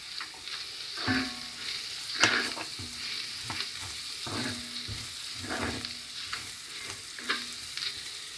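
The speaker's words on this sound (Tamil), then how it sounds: "வெங்காயத்தோடு சேர்ந்து தூளும் நல்ல எண்ணெயில் வதங்கி விரட்டும் பச்சை மிளகாய் போட்டிருக்கிறேன்" Onion, chilli powder and green chillies sautéing in oil for a Jaffna-style crab curry: a steady sizzle broken by repeated scraping stirs, with close, moderately loud strokes every second or so.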